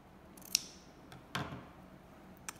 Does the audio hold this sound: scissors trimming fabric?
yes